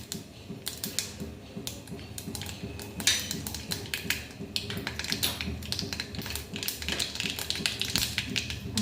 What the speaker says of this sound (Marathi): ते तेलात थोडं वळवळलं नंतर घालूया आपण थोडीशी मोहरी